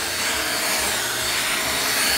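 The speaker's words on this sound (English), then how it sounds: "All right, I vacuumed you." A vacuum cleaner drones loudly and steadily up close as it runs over a Bernese Mountain Dog puppy, its whine broad and constant with faint rubbing underneath and no voices.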